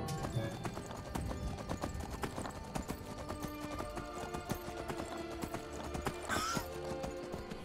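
Horse hooves clip-clop steadily with an occasional whinny in the Skyrim VR video game, layered over a dense bed of game music and ambience that runs throughout at a fairly even loudness.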